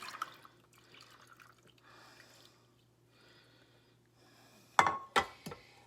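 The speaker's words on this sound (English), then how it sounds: "I will pour our lemonade over." Lemonade is poured into a glass holding lemon pieces, giving a short liquid splash with clinks near the end after a quiet stretch of faint hiss.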